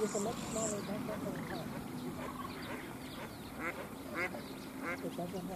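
Ducks at a wetland in the Wakkerstroom area of South Africa give scattered quacks at moderate distance, partly under people talking outdoors.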